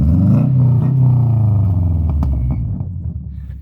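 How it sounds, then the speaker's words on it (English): A tuned Toyota Corolla engine revving up then settling back toward idle, a loud close rumble that fades out over a few seconds. "I said I was going to get a rev video"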